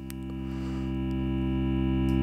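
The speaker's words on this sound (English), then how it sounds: "if I set this thing to soft clip, which also adds a typical distortion tone" Thor synthesizer in Reason sustains a buzzy tone through a soft-clip shaper distortion, loud and steady with rich harmonics, swelling slightly louder over its length, alone with no talking.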